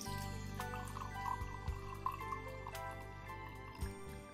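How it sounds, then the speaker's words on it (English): Sweet red wine is poured into a glass, a soft, continuous trickle with faint drips at low volume against a quiet indoor hum. "So I'm going to begin with a glass pouring of this Always Be."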